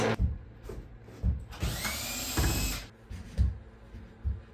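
A power drill tightens loose screws on a door in a mountain cabin, running in one whirring burst of a second or so between soft knocks and handling sounds.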